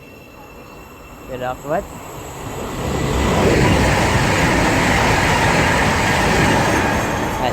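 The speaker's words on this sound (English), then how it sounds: "There's a train now passing." A brief spoken word, then a train rumbles past close by at Bedford station on the Midland Main Line, a broad, steady roar of wheels and rail noise swelling and holding.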